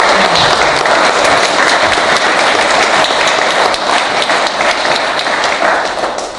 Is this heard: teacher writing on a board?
no